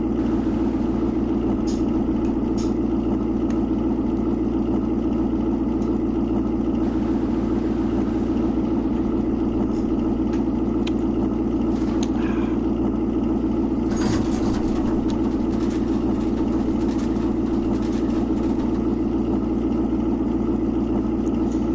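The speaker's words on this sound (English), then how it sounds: "Listen to the roar of that engine." A loud engine roars in a steady, heavy low rumble that fills the whole stretch, with brief hiss-like bursts partway through, close by and without talking.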